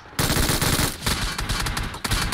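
Rapid automatic gunfire from PUBG Mobile, a loud sustained burst of shots starting abruptly and continuing with short breaks, close and dominant.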